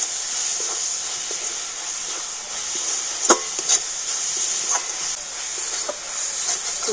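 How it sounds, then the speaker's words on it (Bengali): Sesame seed filling for tilkuli pitha is stirred in a pan with a steady soft hiss and sizzle, while a spoon scrapes and taps lightly against the pan a few times. "তো তিল দিয়ে আবারও সবকিছু খুব ভালো করে মিশিয়ে নেব।"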